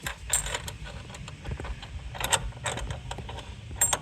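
Metal washer and nut dropped and fitted onto a bolt of a jet ski dock, a few light clinks and small metallic taps over faint handling rustle, close and quiet.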